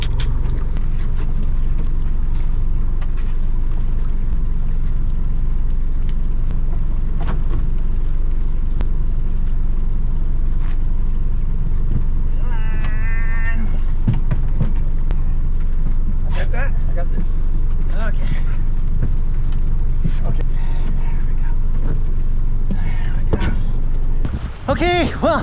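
Boat engine running steadily at about 1200 RPM while anchoring a wooden boat, a constant loud low rumble throughout with wind noise and occasional faint knocks and squeaks.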